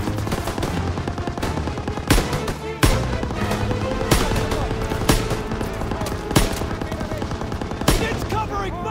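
Sustained machine gun fire rattles through a Call of Duty WWII battle at Hill 493, with rapid bursts and several sharper blasts cutting in over a dense layer of gunfire, while soldiers shout beneath.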